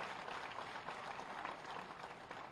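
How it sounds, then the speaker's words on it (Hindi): Audience applause at a Teachers' Day state teacher award ceremony honouring selected teachers, a steady, faint wash of clapping that runs evenly for the whole stretch with no voices over it. "तालियों का अपना संगीत होता है।"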